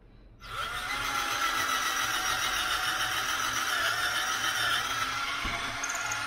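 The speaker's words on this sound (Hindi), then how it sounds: "ये ड्रिल पे सेट करके इसके टॉर्क को, आइए हम इस लकड़ी में होल करके देखते हैं" A cordless drill set to drill mode bores through a thick piece of solid wood, starting abruptly and holding a loud, steady high whine close by for about six seconds with no talk.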